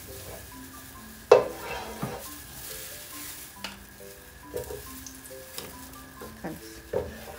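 Salmon, onion, garlic and coriander sizzle in oil and two spoonfuls of ghee for a fish sayadieh, with a steady frying hiss, sharp clanks of a spoon against the pot and stirring noises close by.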